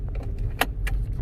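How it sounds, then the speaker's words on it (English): Seatbelt buckled inside a Toyota C-HR, a brief metallic jangle and click over the low hum of the car's interior, close and short. "we're gonna put on our seatbelt"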